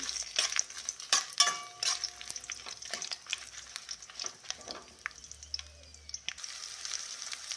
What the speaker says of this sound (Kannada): ಮೊದಲಿಗೆ ಎಣ್ಣೆ ಹಾಕೊಂಡಿದ್ದೀನಿ ಎರಡರಿಂದ ಮೂರು ಸ್ಪೂನು ಇದಕ್ಕೆ ಒಣಮೆಣ್ಸಿನ್ಕಾಯಿ ಸೇರಿಸ್ತಾ ಇದ್ದೀನಿ